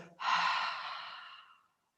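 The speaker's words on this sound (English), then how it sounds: "breathing in through the nose and making a very soft sound through the mouth" One soft, breathy exhale through the mouth in an ocean-breathing relaxation exercise, close and gentle, rising quickly and then fading smoothly over about a second and a half into silence.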